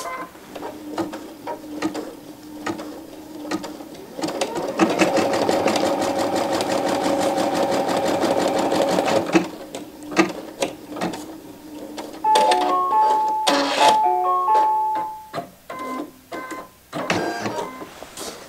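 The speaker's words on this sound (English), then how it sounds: "Once the seam sews and the machine moves to the next position" An embroidery machine stitches a quilting seam on a piece-in-the-hoop design, a steady, rapid mechanical chatter lasting several seconds, followed by a quieter pause and a series of short electronic beeps as the hoop moves to the next position.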